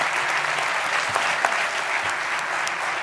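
An audience at a gala for Radio Lleida's 90th anniversary applauds Cadena SER radio workers, with steady, dense clapping throughout and no talk over it.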